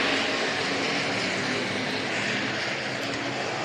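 Stock cars race down the back straightaway at Hancock County Speedway, a dense, continuous engine roar at close range that stays loud and even throughout.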